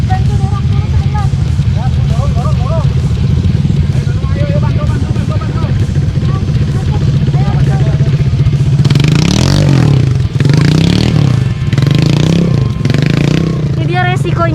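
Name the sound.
motorcycle stuck on rough dirt road being pushed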